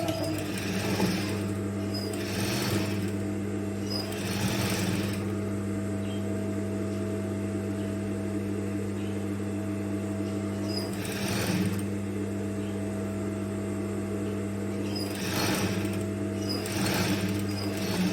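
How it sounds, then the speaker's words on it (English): A sewing machine runs steadily, stitching a fabric seam with a half-inch allowance, under a constant hum with recurring bursts of louder whirring and no talking. "So we'll start sewing ½ inch."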